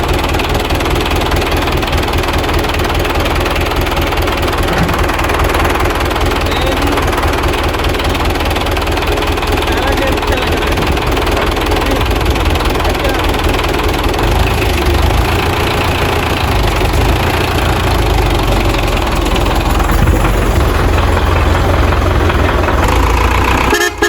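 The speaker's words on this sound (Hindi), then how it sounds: "हम पहुंचने वाले हैं अभी ट्रैक्टर के पास और चलाते हैं ट्रैक्टर" A tractor engine running loud and close, a dense continuous rumble with steady low knocking throughout, no talk over it.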